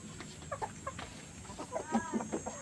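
A brown hen clucks softly, giving several short, faint clucks and murmurs in an irregular rhythm over quiet background hiss, with no talking.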